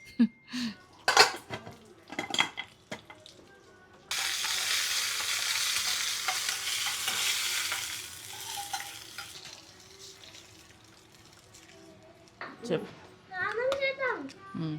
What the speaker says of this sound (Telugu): ఇప్పుడు బేసిక్ తాలింపు